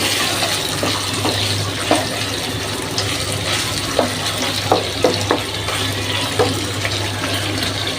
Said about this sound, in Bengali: মানে লাড়া দিয়ে দিচ্ছি আমি অফ ক্যামেরায়।